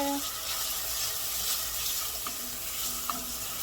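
A frying-pan mixture for moussaka, seasoned with oregano, being stirred over a steady close sizzle, with a few faint clicks of the utensil against the pan.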